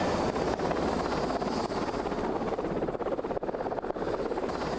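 A helicopter in flight, heard from inside the cabin, gives a steady, loud whirring roar with rapid rotor chop throughout and no voices.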